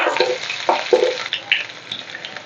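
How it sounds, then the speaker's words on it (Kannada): Garlic and curry leaves frying in a pan, giving a crackling sizzle with several louder spits and pops over a steady hiss, heard close and alone. "ಈಗ ಇದನ್ನು ಚೆಂದಾಗ ಒಂಚೂರು ಫ್ರೈ ಮಾಡ್ಕೊತೀನಿ"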